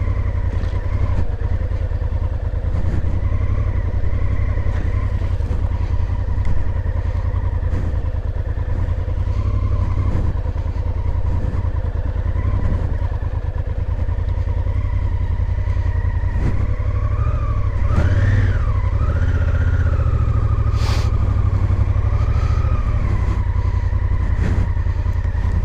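Motorcycle on a solo moto-camping trip, engine droning steadily and loudly throughout with low rumble, slight revving swells and some clatter from the loaded bike, no talking.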